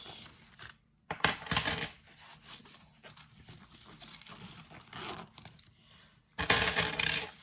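Loose coins spill and clatter as they are dropped and sorted by hand, a busy close-up jangle of metal pieces that goes on almost continuously with brief pauses.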